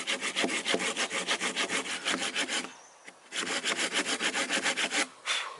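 A hand saw cuts through a tough piece of pine outdoors in a woodland camp. It makes steady rasping strokes in a fast, even rhythm, pauses briefly and then starts again, loud and close.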